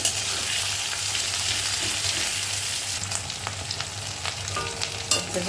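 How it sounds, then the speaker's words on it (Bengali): Pieces of catla fish oil frying in hot oil with onion and whole-spice tempering, a loud, steady sizzle with occasional stirring scrapes and spatters toward the end. "ফোড়নের সাথে ভালো করে ভেজে নেব ভালো করে এটাকে তেলের সাথে ভেজে নিতে হবে"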